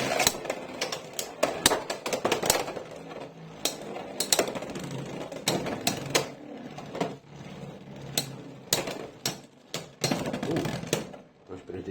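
Beyblade spinning tops clash in a stadium, with sharp repeated clacks and metallic ratcheting hits in rapid irregular bursts, close and loud, under intermittent talk.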